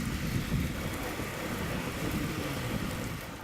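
Steady hiss of heavy rain around Regent's Park in winter, heard from a bicycle at speed with rumbling road and wind noise underneath, continuous and fairly loud, no talk.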